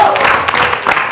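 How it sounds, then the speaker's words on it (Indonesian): Studio audience clapping for a guest on an Indonesian talk show, a brief, loud burst of dense applause lasting about a second. "Ini ya, tepuk tangannya."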